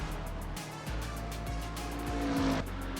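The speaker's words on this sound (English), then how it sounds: "now Flinchy and Call Me Twy are going to be coming around the final corner to set the first lap of the day" Race cars in a video game rounding the final corner of a qualifying lap, with loud, close engine drones and shifting revs layered together and a brief tire squeal, steady and dense for the whole stretch.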